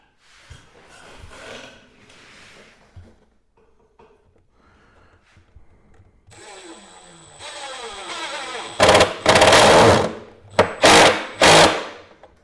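Wood screws are driven by a power driver to permanently fasten workbench parts, giving several loud bursts of motor whir close by near the end, after quieter handling noises.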